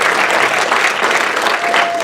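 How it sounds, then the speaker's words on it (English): A room full of people at the GANYC Apple Awards breaks into loud, dense applause, a thick continuous wash of clapping filling the short stretch. "Give yourselves a round of applause"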